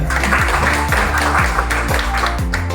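An audience at a PJOK teacher-training session claps together in a dense, steady burst of applause, with rhythmic pulses that may come from music or beats running underneath.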